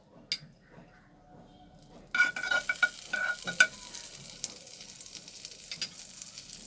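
Butter melts and sizzles in a pan for milk bread toast, quiet at first, then a brighter, busier sizzle with scraping strokes as the butter spreads across the surface.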